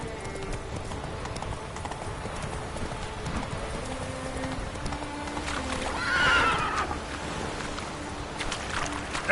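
Roach, the horse from The Witcher 3, gallops with steady clip-clop hoofbeats over a continuous ambient bed, and a loud neigh rings out around the middle, fairly close.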